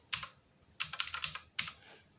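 Close-up computer keyboard typing while logging in: a short burst, then a longer run of rapid keystrokes and a final quick flurry, alone in a quiet room.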